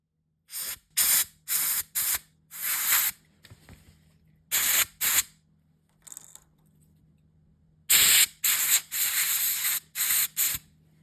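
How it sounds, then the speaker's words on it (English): A can of compressed air duster blows dust off a Honda key fob in about a dozen sharp hissing bursts, some short and some longer, close up and separated by silent gaps. "And then I used air duster to blow the dust away."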